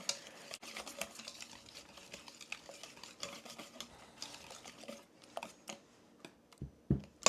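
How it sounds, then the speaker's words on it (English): A whisk is worked briskly in a bowl, giving quiet rapid clicks and scrapes in an irregular rhythm, fairly faint and close, with a few sharper taps near the end. "So we will give this a whisk now"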